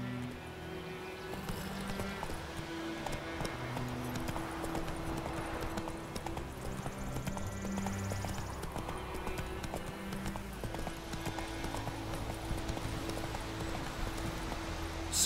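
Hooves of the horse Roach clip-clopping at a steady gallop in The Witcher 3, a continuous rhythmic drumming under game music and ambience, with occasional snorts.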